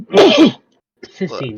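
A single loud, close sneeze during a tabletop role-playing game session, followed right after by a short spoken word.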